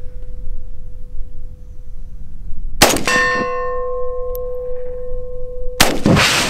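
Two sharp, loud 7.62x39 rifle gunshots a few seconds apart, the first followed by a ringing metallic clang off an oxygen bottle that sustains and slowly decays, with low outdoor background noise throughout.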